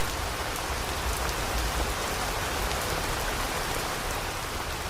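Steady, dense rain pours down without pause on a village within Dhaka city, a continuous broadband hiss of drops striking surfaces nearby.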